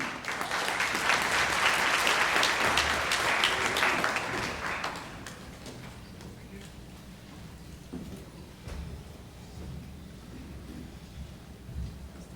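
A morning audience in Memphis gives a round of applause for a visiting doctor, a full crowd clapping for about five seconds before thinning to scattered claps and room noise.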